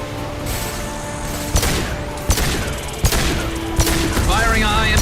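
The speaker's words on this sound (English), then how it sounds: "Firing a high impact shot." Gunfire in the Mass Effect 2 video game, a high impact shot among several sharp shots spaced about a second apart over a steady game soundscape, with a brief electronic warble near the end.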